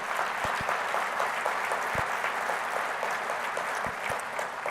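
A crowd at a speaking event applauds steadily, a dense, continuous burst of clapping with a few sharper individual claps standing out near the front.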